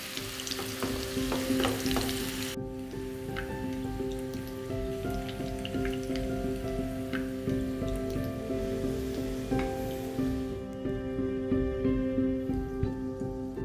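Boiled potatoes fry in oil for aloo dum, making a continuous crackling sizzle with scattered popping spatters at close range, steady throughout with no talk.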